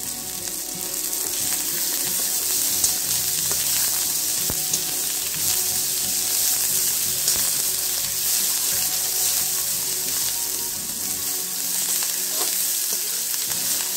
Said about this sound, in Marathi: लसूण आणि मिरचीची पेस्ट केलेली आहे, ती पण आपण त्यात टाकूया। ते नंतर छान परतून घ्यायचं।